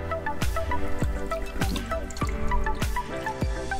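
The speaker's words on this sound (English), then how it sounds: "So last step is actually putting in the water." Water is poured into the tank of an Arctic Air Pure Chill 2.0 evaporative cooler, giving a steady close-up trickle with bubbly, dripping plinks and gurgles, quiet and continuous, with no talking.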